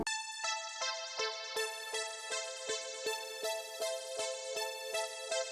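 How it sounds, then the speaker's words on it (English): Repeated synthesizer plucks in a steady rhythmic pattern, bright and harmonic with quick decays, about a dozen notes played alone with no voices. "the next thing you hear a lot in his music is some kind of pluck"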